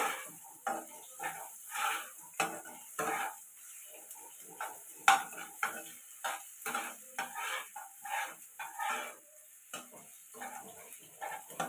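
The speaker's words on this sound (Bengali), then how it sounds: "এলাচ চারটে এরকম আস্তে আস্তে করে পেঁয়াজটা লাল লাল ভাজা করে নিতে হবে" Onions frying slowly with four cardamom pods in a pan, a quiet sizzle under repeated scraping stirs in an irregular rhythm, close and faint.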